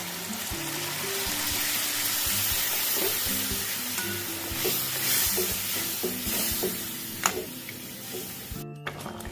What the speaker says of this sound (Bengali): এবার আমি এর মধ্যে গরম জল দিয়ে দেবো।